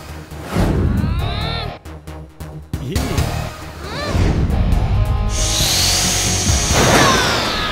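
A cartoon robot boy's drilling suit whirs and grinds through a busy cartoon action scene, a rising mechanical drilling sound mixed with sweeping effects, loud and continuous toward the end.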